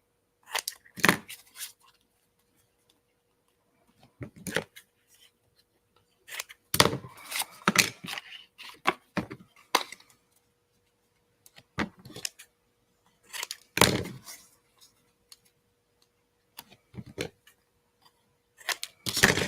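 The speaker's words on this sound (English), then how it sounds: "Who's seen scissors? There they are." Scissors snip through a cardboard paper towel roll for a craft project, a run of sharp, close cuts in short bursts separated by pauses, with no talking.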